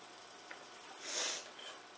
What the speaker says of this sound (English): I'm so sorry about sniffing